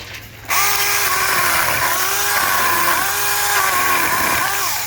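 A chainsaw starts cutting wood after a brief quiet moment, its loud, close, buzzing whine holding steady with small dips in pitch as the chain bites into the log.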